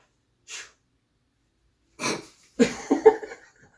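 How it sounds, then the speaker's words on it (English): A short breathy burst is followed by a sharp sneeze-like expulsion and a few snorting, catching breaths, close up in a quiet room. "It sounded like you sneezed."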